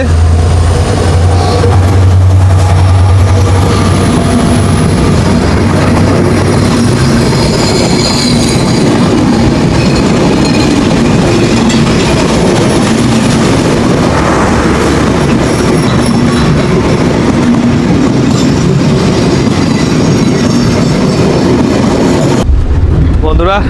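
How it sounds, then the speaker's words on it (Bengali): Simanta Express train running on rails toward Panchagarh, a loud steady rumble with clattering wheels and rail noise that carries on throughout before cutting off near the end. "সীমান্ত এক্সপ্রেস ট্রেন যাচ্ছে"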